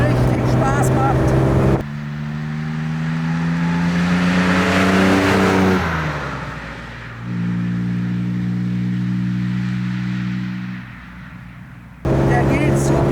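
A 1956 Jaguar XK 140 engine pulls hard while driving, its rising harmonic drone climbing through the gears with a pause between pulls, loud and close; someone talks before and after.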